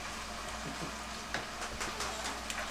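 Steak frying in a pan for a steak and cheese sandwich, a steady broadband sizzle with a few sharper crackles and pops, close and fairly quiet, with no talking.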